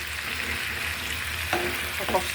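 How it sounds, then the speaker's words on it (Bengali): Shrimp sautéing in a pan with a vegetable, a steady low frying hiss throughout, followed near the end by a couple of brief scraping stirs of a spoon against the pan. "চিংড়ি মাছটা এখন আমি সুন্দর করে রান্না করবো কষাবো"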